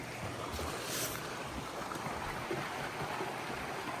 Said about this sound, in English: there's this creek out here. This runs right through the property.